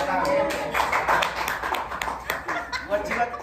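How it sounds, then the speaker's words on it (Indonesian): Clapping from a classroom audience during a Batak Toba flute lesson, uneven taps and claps mixed with chuckles and voices talking over it, fairly close and moderately loud. "Tepuk tangan dulu tuh player."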